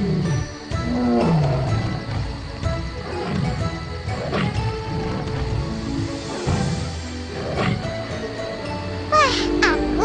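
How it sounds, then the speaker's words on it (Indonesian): Several tigers roar and growl in rough, drawn-out bursts amid a busy wildlife-park setting, with overlapping calls, some bird cries and background chatter mixed in. "banyak harimau-nya ya."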